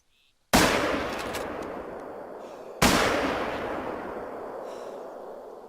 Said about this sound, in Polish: Oddałem dwa strzały